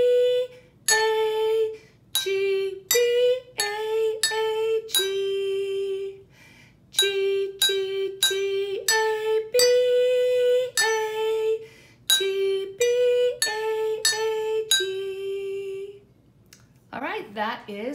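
Water glasses struck like a xylophone ring out the melody of Au Clair de la Lune, with bright, bell-like dings arriving in short phrases and slow, steady rhythm.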